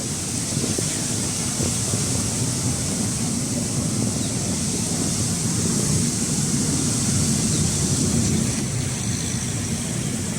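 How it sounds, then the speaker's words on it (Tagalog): Strong sea waves crash against the Manila Bay seawall while wind buffets the microphone, a loud, continuous roar of surf and gusts filling the whole stretch without voices. "Napakalakas ng hampas ng alon, maging ang hangin"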